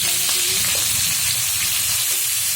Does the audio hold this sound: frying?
yes